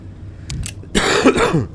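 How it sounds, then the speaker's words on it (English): A cough in a PS5 playthrough of the game Vampyr: a couple of short, rough bursts followed by a louder, fuller cough, close and fairly loud, with no talking over it. "Excuse me for my cough again"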